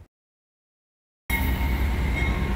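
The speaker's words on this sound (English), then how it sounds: "An Amtrak train heading north, traveling close to 80 miles an hour and blaring its horn" After a moment of silence, a northbound Amtrak train roars past at close to 80 miles an hour, a loud, steady rush of wheels and wind with high ringing tones running through it.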